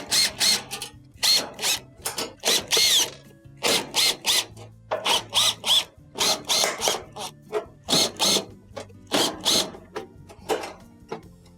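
A power screwdriver whirs in short repeated bursts, loud and close, while backing out screws from the top panel of a Maytag stove, with brief pauses between each run.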